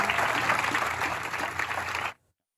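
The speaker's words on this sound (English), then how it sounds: "That round of applause was for the grand opening of the new Oso Creek campus." Applause at the grand opening of Del Mar College's new Oso Creek campus, a steady patter of crowd clapping for about two seconds that cuts off abruptly into silence.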